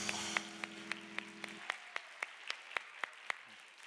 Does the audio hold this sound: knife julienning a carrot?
no